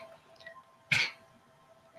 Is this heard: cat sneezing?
yes